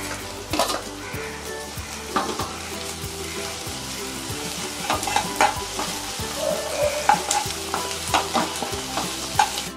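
Ginger garlic paste sautés with onions, green chilli and curry leaves in a pan for a ladies finger masala, a steady sizzle broken by repeated scraping stirs and light utensil knocks, close and continuous with no talking.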